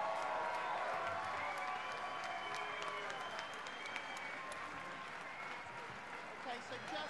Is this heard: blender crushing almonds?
no